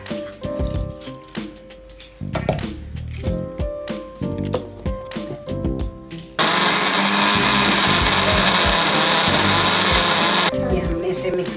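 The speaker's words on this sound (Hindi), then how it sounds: "ये हमने इसे मिक्सी में पीस लिया है।" A mixer grinder grinding soaked urad and chana lentils whirs in short pulsing bursts, then runs in one loud continuous grinding roar before stopping, with a voice heard around the machine noise.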